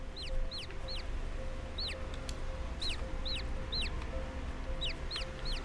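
Repeated small bird calls in the video game Summer in Mara, quick rising-falling chirps in pairs, over a steady background hum; no talking.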